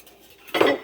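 A metal cooking pot is handled and set down with a short clattering clank, loud and close, after a brief quiet moment; it is being readied for making OXO gravy with a whisk, flour and butter.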